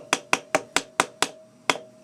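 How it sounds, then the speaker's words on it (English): Seven sharp metallic taps from a hammer tapping a shock bushing seal into place on a Brute Force 750, evenly spaced then a short pause before the last, close and crisp with no talking. "Take a hammer and just tap it in a little bit."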